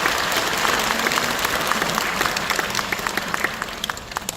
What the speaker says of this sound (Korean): 큰 박수와 격려 부탁드리겠습니다